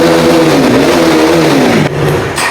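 A KTM RC 390 motorcycle fitted with a modified exhaust revs hard and loud, a sustained close engine roar with pitch rising and falling, briefly dipping near the end before picking back up.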